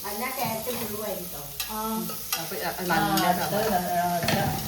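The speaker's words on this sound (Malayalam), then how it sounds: "ഞാനിത് ഇതില് എണ്ണ ചൂടായപ്പോ വല്യുള്ളി ഇട്ടു കേട്ടോ" Big onions for chicken curry fry in hot oil with a continuous, moderately loud sizzle and stirring scrapes, while people talk over the cooking noise.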